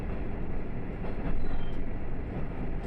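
A train running on the rails of the Gantoku line in Yamaguchi, a steady loud rumble from inside the carriage with faint wheel clatter and occasional squeal, continuous throughout with no talk.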